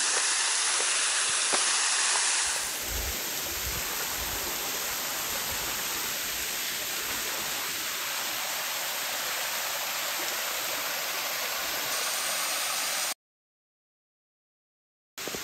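A waterfall on the Oki Islands, heard from behind the falling water in summer heat, roars as a loud, steady broadband rush that fills the scene for about thirteen seconds before cutting off abruptly.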